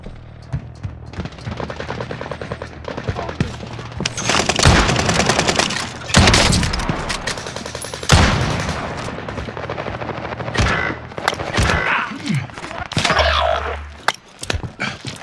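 Rapid automatic gunfire in Call of Duty Warzone on Rebirth Island, with an MP5 submachine gun in play: loud sustained bursts and volleys recur throughout, alongside in-game voice callouts and a low helicopter-like drone underneath.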